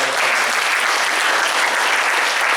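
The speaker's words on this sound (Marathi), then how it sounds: "त्याच्या आधीच टाळ्या वाजवा, पुन्हा आपल्याला टाळ्या." Students clap together in a room during an encouragement session, a dense, even burst of applause that holds steady throughout without a break.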